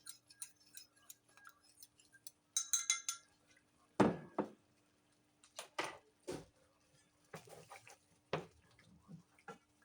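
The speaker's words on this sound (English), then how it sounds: "There's a little bit more of the better than bouillon down here at the bottom, so I'm just going to stir that up" Spoon scraping and clinking in a pot of chicken curry gravy made with bouillon: scattered, fairly close metallic taps and scrapes in irregular bursts, with quiet pauses between them.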